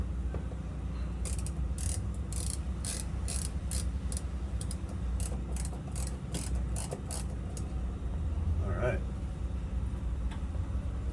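Bolts being tightened on a steering column bracket of a 1969 Camaro, fitted with an IDIDIT column, give a run of quick ratchet clicks in bursts over a steady low hum, close by, with a brief voice partway through.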